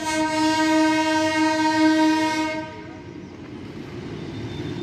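A Darjeeling toy train blows its horn near Dali Monastery, a loud, steady, tonal blast that holds for about two and a half seconds, then cuts off and leaves only outdoor rumble and a faint rail clatter.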